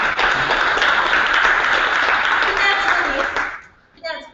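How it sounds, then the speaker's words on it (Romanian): A roomful of participants at a leadership training session clap in welcome, a steady wash of applause that fades out near the end, followed by a brief voice starting to speak. "Haideți vă să aplaudăm."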